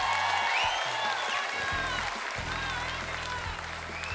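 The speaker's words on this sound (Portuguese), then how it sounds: "Dá uma salva de palmas pro Coelho." Studio audience applauds a guest on a Brazilian TV talk show, steady clapping filling the clip with some voices and music-like tones underneath.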